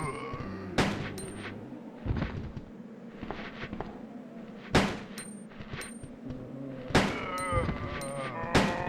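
Gunshots ring out in Resident Evil 2 as sharp, loud single blasts spaced a second or two apart, with softer noises and occasional talk between them.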